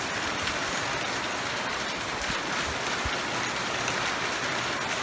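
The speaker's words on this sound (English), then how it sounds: "It's been raining every day to a greater or lesser extent." Steady rain pours outside, a dense, continuous hiss of drops on surfaces that stays loud and even throughout with an occasional sharper drip, and no voices.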